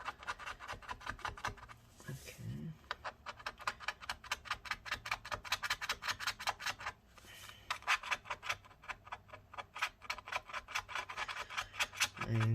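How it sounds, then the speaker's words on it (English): Adhesive is scraped away inside a MacBook A1534 laptop with steady, rapid back-and-forth rasping strokes, close and fairly quiet, continuing without pause and with no talk. "it's going to be a very long video of me just scraping away adhesive"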